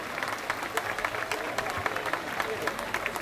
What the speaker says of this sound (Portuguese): uma salva de palmas ao Hilário.